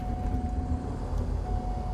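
Left engine of a Diamond DA42 twin in a flight simulator cranking and running up, a steady droning rumble with a constant whining tone, fairly loud and unbroken, with no talking.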